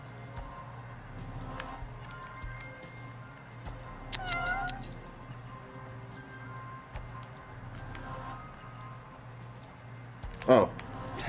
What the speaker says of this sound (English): I'm trying to see where I'm gonna find this fucking cat.